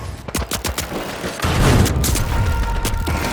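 A frag grenade going off in THE FINALS, a single loud blast with rumbling debris after a burst of rapid gunfire, heard mid-match with no talking.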